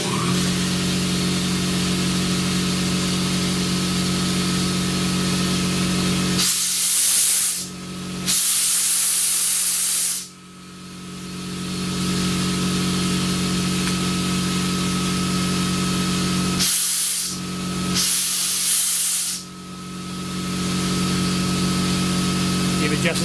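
A YSTool pressurized brake flush tool lets out loud, sharp bursts of air hissing as its valve opens, two pairs of spurts against a steady mechanical hum.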